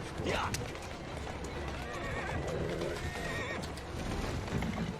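A horse in Assassin's Creed Syndicate, set in Victorian London, gives a loud whinny near the start, followed by continuous hoof clatter and ambient game noise, while a person talks over it.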